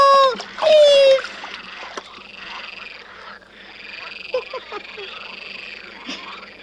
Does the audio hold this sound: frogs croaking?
yes